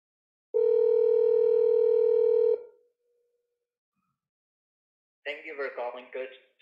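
A telephone line gives a single loud, steady two-second tone after dialing, then falls silent before a person starts speaking over the line.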